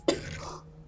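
A single short, husky cough and throat clear comes close and fairly loud, then trails off into quiet room tone.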